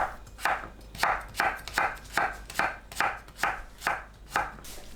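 A knife slices pitted jujubes about 0.3 cm thick on a cutting board. About ten crisp, even chops land at roughly two per second, close and clear, with no talking.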